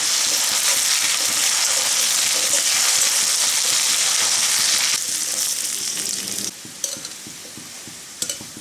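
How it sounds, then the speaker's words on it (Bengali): Potatoes frying in a pan for a Bengali potato poppy-seed curry with shrimp give a loud, steady sizzle with stirring that drops off partway through, followed by a few scrapes and clinks. "এখন আমি আলুগুলো খুব ভালো করে ভেজে নেব"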